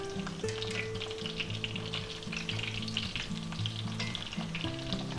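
Thin breaded beef milanesa cutlets frying in a pan of oil, a steady close sizzle with bursts of popping and crackling, no voices.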